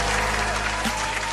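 Brief burst of clapping from a group, a dense even patter holding steady at a moderate level for a moment.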